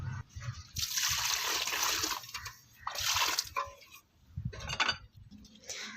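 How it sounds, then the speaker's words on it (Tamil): Water pours and splashes onto freshly stirred soil around potted rose plants, in several steady bursts with short breaks between them. "கிளறி விட்டு கொஞ்சம் தண்ணி கொடுத்துடலாம் செடிகளுக்கு."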